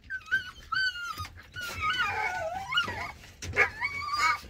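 Several dogs in kennels bark, yip and whimper in quick, overlapping bursts at close range, a restless chorus of high whines and short barks.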